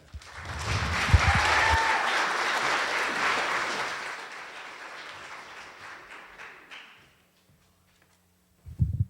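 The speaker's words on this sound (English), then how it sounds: "Let's give a round of applause to Dan, Tegan, and Taylor." Applause from the audience at a youth mental health summit, swelling to a full round of clapping, then gradually thinning and fading to near silence before a brief sound at the end.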